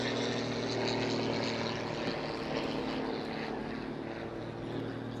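Steady, continuous drone of a Pitts S-2S aerobatic biplane with a 300-horsepower six-cylinder 8.5-litre engine, propeller and engine hum sustained throughout at moderate loudness, with no talk.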